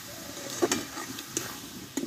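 Stirring sweet dudpuli filling in a pan by hand, with a soft background sizzle and a few sharp scrapes and taps against the pan at irregular moments, close and fairly quiet, with no talking.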